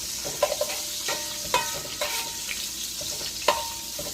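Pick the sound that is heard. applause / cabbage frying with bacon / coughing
cabbage frying with bacon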